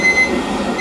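A steady electronic alarm clock tone rings continuously and fairly loudly in a room where two exhausted men sleep, with no talking over it.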